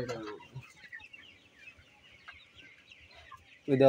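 Sonali chickens cluck softly and steadily at a moderate distance, with a voice briefly heard at the start and again at the end.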